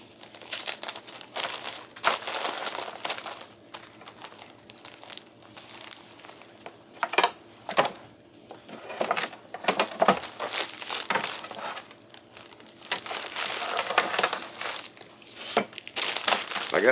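Freeze-dried strawberry squares are crushed by hand inside a plastic pouch, giving irregular bursts of crinkling and crunching with brief pauses between squeezes.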